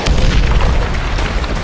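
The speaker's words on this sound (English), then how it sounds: "One of the missiles scores a direct hit on the enemy bunker." A missile strikes an enemy bunker with a deep, loud, rumbling explosion that fills the whole brief moment, heavy and sustained without any break.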